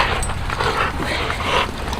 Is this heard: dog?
yes